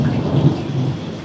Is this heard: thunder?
yes